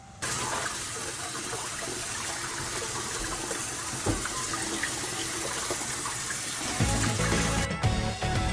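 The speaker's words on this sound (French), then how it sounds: "je vais le rincer à l'eau fraîche pour arrêter la cuisson et pour le refroidir" Cold tap water runs steadily through a strainer of cooked quinoa, a continuous close gushing splash in a kitchen sink that grows heavier and lower near the end.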